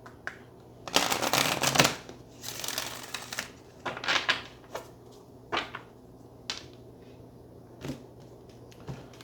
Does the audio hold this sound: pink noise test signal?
no